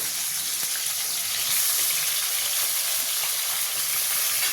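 Two large tomatoes sizzle in hot oil in a wok-style pan while a vegetarian tarka is cooked, a steady close frying hiss with no talk.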